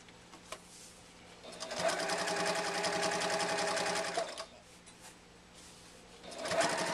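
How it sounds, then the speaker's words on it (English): Sewing machine top stitching a wallet zipper pocket, running in one steady rapid burst of about two and a half seconds, then starting again briefly at the end, close and clear against quiet room tone. "And now you're going to top stitch."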